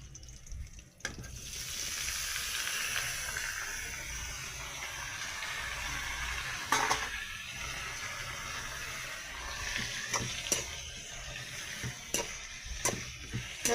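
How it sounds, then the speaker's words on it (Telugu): Bottle gourd pieces hit hot tempering oil in a pan and give a continuous sizzle, with a few sharp clicks and spatters scattered through it. No one speaks. "ఇప్పుడు ఈ ఆనపకాయ ముక్కలు ఇందులో వేసి మూత పెట్టి మగ్గించాలి"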